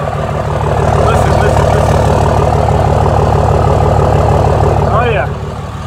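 A leveled 2006 Dodge Ram 2500 SLT 4x4 with a 5.9 Cummins diesel and deleted turbo-back exhaust idles close by. Its loud, steady, deep clatter runs throughout, and a brief sound rises near the end.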